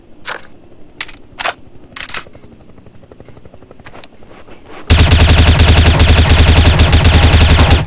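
Gunfire in Counter-Strike on the de_dust map: several short bursts and single shots crack out close and loud, then a dense, continuous roar of automatic fire takes over to the end.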